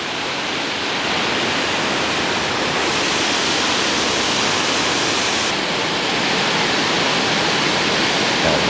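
A high-volume waterfall along a Tennessee hiking trail, a steady, dense broadband roar that stays constant and close throughout with no voices.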